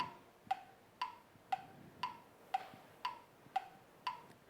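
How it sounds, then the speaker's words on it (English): Steady tick-tock of an alarm clock inside a crocodile's belly in a Peter Pan stage show, eight evenly spaced crisp ticks about half a second apart, clear but fairly soft against a quiet background. "But, luckily for Hook, the croc also swallowed an alarm clock."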